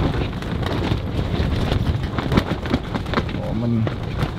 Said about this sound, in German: man merkt ja halt wieder richtig, wie der Wind durchgeht